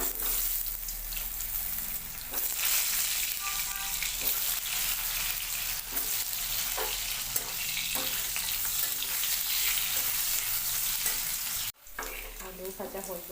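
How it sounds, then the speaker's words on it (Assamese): Potato pieces fry in hot oil left over from frying broiler chicken, giving a continuous loud sizzle with occasional stirring and scraping, close by, and a brief cut near the end. "মই মাংস ভাজা তেলতে আলুখিনি ভাজি ল'ম।"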